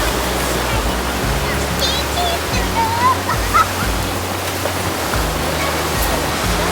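Ocean surf at Chirihama beach in Ishikawa, a loud continuous wash of breaking waves with broad hissing roar and low rumble, close and steady, with faint bird chirps and brief voices in the background.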